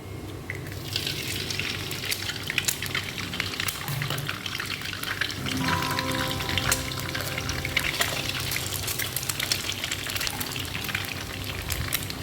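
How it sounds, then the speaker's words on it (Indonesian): Steady sizzling and crackling of eggs frying in a hot pan, continuous and close, with no talking. "Selanjutnya saya akan menggoreng telurnya di sini"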